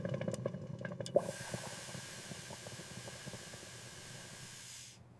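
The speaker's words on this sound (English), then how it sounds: "The water is boiling." Steady broadband hiss of water boiling in a kettle over a blue flame, constant and close, with a few faint clicks at the start, cutting off abruptly near the end.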